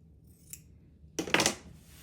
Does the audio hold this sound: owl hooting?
no